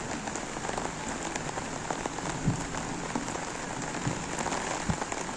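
Steady rain of the first monsoon shower falls in a village in Devgad in late May, a dense hiss of drops on surfaces with occasional louder nearby splashes, no voices.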